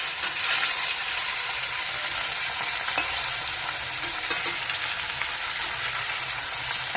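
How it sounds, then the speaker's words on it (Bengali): Live singhi fish, seasoned with salt and turmeric, fry in hot oil in a Bengali kitchen, a continuous close sizzle with scattered crackles and pops and no talk. "জ্যান্ত মাছ দিয়েছি, হালকা করেই ভেজে তুলে নেবো"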